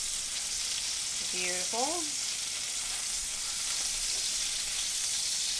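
Salisbury steak patties sizzle in a pan just after being flipped, a steady close frying hiss throughout, with a brief spoken word near the start.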